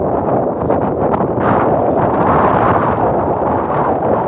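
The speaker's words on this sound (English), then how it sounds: "That fucking wind's kicking on" Strong wind roars steadily across the microphone outdoors late at night during a fishing outing, a loud, continuous gusting rumble with no break.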